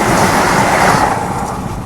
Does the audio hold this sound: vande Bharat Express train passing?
yes